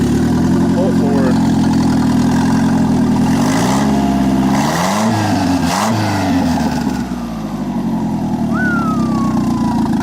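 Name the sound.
car engine revving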